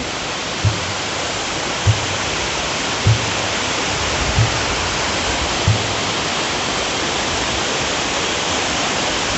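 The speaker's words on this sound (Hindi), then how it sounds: "यहाँ का जो पानी है, पानी सब नीचे ही जाता है, इधर तक देखिए, वहाँ से पानी गिरता है।" Khandadhar waterfall in Odisha roars in a loud, unbroken wash of rushing water, with a few soft low thumps repeating about once a second beneath the steady spray.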